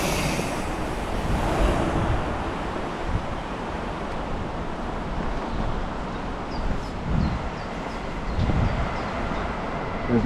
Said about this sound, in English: There's another train gone now.